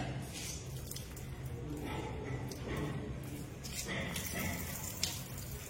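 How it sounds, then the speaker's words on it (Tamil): Water is poured out of a container onto the ground, a splashing, dripping trickle with soft squishy sounds, while a person talks over it. "இப்போ இதை கீழே ஊற்றிட்டு காட்டு பாருங்க."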